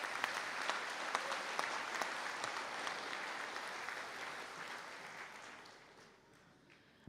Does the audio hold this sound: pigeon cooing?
no